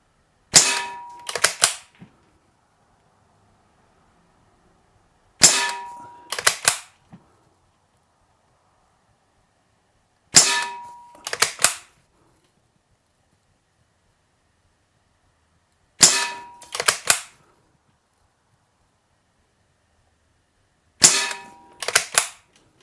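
Five sharp, loud shots from an Umarex Ruger 10/22 CO2 pellet rifle, each a crisp snap followed by a quick second report, spaced about five seconds apart in near silence.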